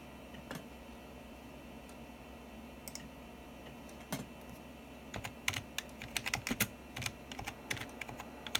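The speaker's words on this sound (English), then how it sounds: "I'm typing with one hand here." Keyboard typing on a Windows 98 PC, sparse at first and then in quicker bursts of clicks, close by over a quiet room hum.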